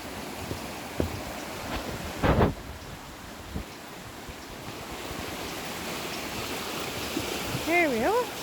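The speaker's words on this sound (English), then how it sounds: "Now, where is this furious river?" A rushing river flowing along a slippery, green woodland path in the morning, a continuous broad roar of water close by, with brief bird chirps and small handling bumps over it.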